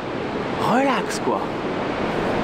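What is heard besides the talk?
sea waves breaking on the shore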